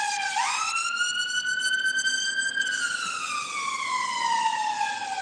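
A passing ambulance siren sounds loud and near, sweeping upward sharply at first, then holding a long steady tone before slowly falling away. No voices are heard.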